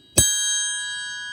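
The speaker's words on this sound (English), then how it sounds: "Now, that triangle bell sounds much lighter to me." A single bright metallic strike rings out clearly, then sustains with a pure shimmering tone that slowly fades, like a triangle left to ring.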